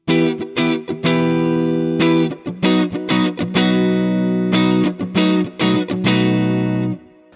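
A 2006 Fender 60th Anniversary Standard Stratocaster with tone control fully up plays choppy chords and riffs with a bright, treble-heavy tone and slight distortion, loud and alone, with brief gaps between strums.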